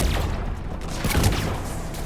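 Dense, continuous gunfire and muffled booms from a Mass Effect 3 battle on Tuchanka fill the scene, a busy rattle of overlapping shots with no clear gaps.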